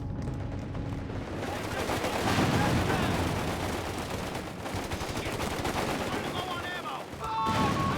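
Bazooka fire rings out in a Company of Heroes 3 battle, its booming shots mixed into constant rattling gunfire and blasts, with a commentator talking over the fighting.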